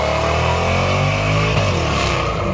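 A car engine revs hard through a custom exhaust, a loud, close, rising roar with strong harmonic drone that swells and settles over a couple of seconds.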